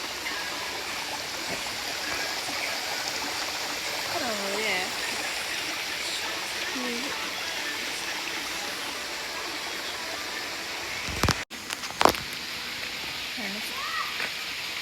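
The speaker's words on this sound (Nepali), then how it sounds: "सानो खोला रहेछ र" A small stream on a valley road trip from Kathmandu to Daman flows with a constant close rush of water. Faint voices murmur underneath, and a couple of sharp knocks break through near the end.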